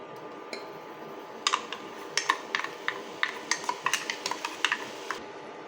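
A utensil scrapes and taps against a pan as vegetables are stirred and sautéed for kurma, a quick irregular run of light metallic clinks over a faint background, no talk.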